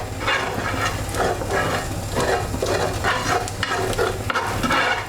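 Montreal steakhouse seasoning sizzles loudly in a hot frying pan, a steady dense crackle and hiss with faint stirring, close and alone.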